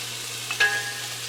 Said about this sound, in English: I'm just going to saute these while I get everything else together